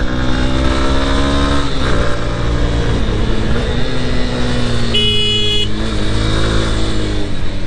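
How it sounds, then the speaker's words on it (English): Heavy road traffic streams past a rider on a Honda Hornet 2.0 motorcycle, with a loud, steady engine and wind roar, passing vehicle drones that rise and fall in pitch, and a brief horn toot midway. "I don't know why there's lots of trucks today."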